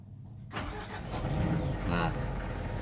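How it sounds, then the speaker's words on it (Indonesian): A car engine cranks and catches after half a second of quiet, then settles into a steady, close idle rumble. "Nah, ini mesin udah hidup ya."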